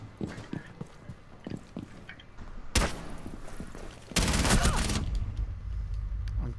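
Gunfire in the Rainbow Six Siege video game sounds as scattered close shots followed by dense, loud bursts of rapid fire, with game footsteps and a little talk around them.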